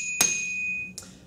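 A blacksmith hammers iron flat on an anvil while forging a piece with slit and bent eyebrow shapes; two sharp metallic strikes ring out close by, the first loud with a lingering ring, the second fainter.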